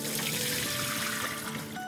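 Water drains off soaked sliced onions in a kitchen while fried onions are prepared, a steady close rushing pour throughout with no talking.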